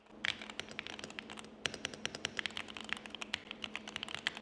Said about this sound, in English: And I also got a new keyboard. This is the Lumen Key.